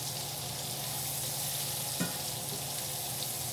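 Onions fry in a pan alongside liver, a steady broadband sizzle that holds evenly throughout, with a single faint stir or clink partway through and no talking.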